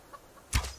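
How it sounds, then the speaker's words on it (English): A single short cluck from a chicken in the Subsistence survival game, quiet and brief, with no one talking over it. "That is my chicken."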